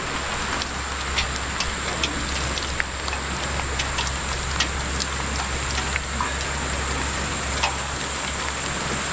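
Heavy monsoon rain in a northern Queensland rainforest near Cairns, a loud, dense, steady downpour pattering on leaves and surfaces with scattered sharper drops, no voices.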